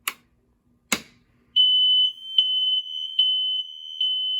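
Two sharp knocks, then a fire alarm starts a continuous high-pitched electronic tone in a house during a drill, loud and steady with slight pulsing.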